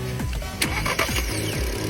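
A car with a newly replaced camshaft sensor being started again: several rhythmic cranking pulses from the starter, then the engine settling into a steady running hum, near and moderately loud, with no voices.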